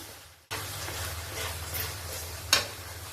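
Jackfruit curry with green chilli and chilli powder sautéed in a pan, a steady sizzle starting abruptly as it hits the heat, with a sharp clink of the spoon near the end; no voices.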